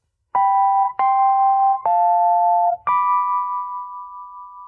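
Synth tones play a backing vocal counterpoint line against a lead voice: four clean sustained notes in steady succession, the last held and slowly fading, loud and alone.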